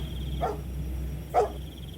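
Two short dog barks spaced about a second apart, heard at a middling distance against a low nighttime hum, set as an eerie effect in a spooky tale.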